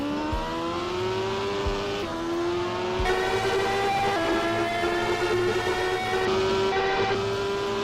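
Historic race car engine in the Assetto Corsa racing game, a steady high-pitched whine with rising and falling revs through gear changes, alone and close, with a thin digital quality.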